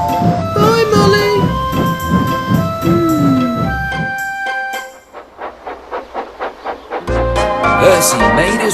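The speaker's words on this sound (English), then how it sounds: "Percy made his way back along the line with his next train" A cartoon steam engine pulls a train of empty flatbeds along the line, with rhythmic puffing chuffs, a short whistle toot, and clattering wheels, backed by music and a voice.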